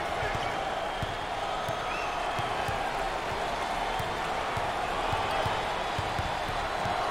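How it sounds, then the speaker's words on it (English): A crowd at an NCAA tournament basketball game gives a standing ovation, with steady, loud cheering and applause throughout and scattered sharp claps. "Standing ovation. You've got to love this reaction by the crowd."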